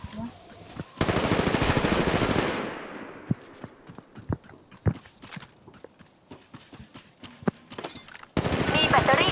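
Gunfire in the mobile shooter Apex Legends Mobile: a dense burst of rapid automatic fire, then scattered single shots and short volleys, then another heavy burst at the end.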